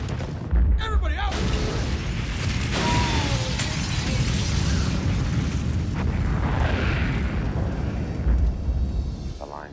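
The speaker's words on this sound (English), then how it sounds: "I heard the sound of an explosion just before it cut off" A loud, rumbling explosion in an action movie set at a tower, with a heavy sustained roar and booming low end filling the scene, bursts and debris continuing throughout.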